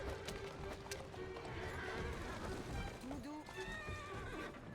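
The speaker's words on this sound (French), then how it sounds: "Mais le cheval il va trop vite." A horse neighs over the clatter of galloping hooves in the Assassin's Creed video game, with the whinny rising near the middle and steady background motion noise throughout.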